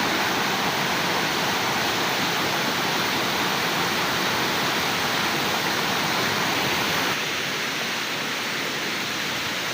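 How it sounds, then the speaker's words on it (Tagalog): Strong rushing water at Kalabato hot spring in La Paz, Leyte, pours in a loud, steady roar, like a waterfall or fast stream nearby, with no pauses. "lakas ng tubig oh, lakas ng tubig"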